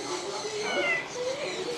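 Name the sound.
Sphynx cat meowing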